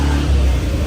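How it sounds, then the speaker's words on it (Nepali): A motorbike engine revs as the bike is wheeled out, a close, steady low rumble and roar holding for about a second with no talk over it. "हामी अब यहाँबाट बाइक निकाल्दैछौँ"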